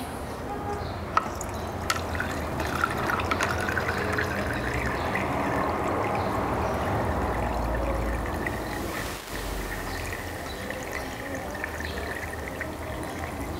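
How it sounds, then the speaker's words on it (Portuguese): Coolant water with trapped air bubbles gurgles and trickles steadily out of a hose on a Peugeot 207 with a heating problem, a continuous close splashing flow with faint clicks and no talk. "agora que começou a sair a água, ó, começando a sair as borbulhas de ar aqui"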